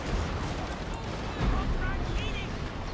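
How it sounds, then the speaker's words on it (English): Artillery fire in the strategy game Fall of the Samurai: a dense, continuous rumble of distant booms and gunfire with a swell midway, heard under a voice. "And there goes the artillery"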